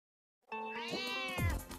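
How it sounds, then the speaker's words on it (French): A single cat meow in a toy commercial, clear and close, rising then falling after a moment of silence, ending with a soft thump. "ne tombez pas sur Max le chat"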